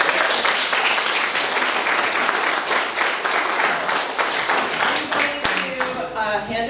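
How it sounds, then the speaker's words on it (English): Applause at a ribbon cutting ceremony, a dense crowd clapping loud and steady for several seconds before thinning out as a voice begins over it. "Let's give them a big round of applause."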